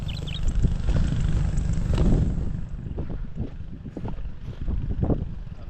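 A boat engine idles at low throttle in a steady, close, broadband rumble, mixed with gusty wind buffeting the microphone.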